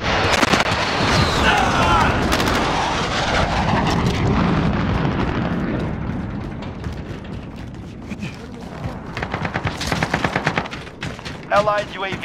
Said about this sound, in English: Allied cruise missile launched. Precision airstrike ready.